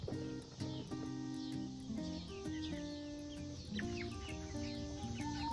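Backyard chickens in a coop cluck and murmur continuously, several birds layered together at close range with rising and falling calls, steady throughout with no speech.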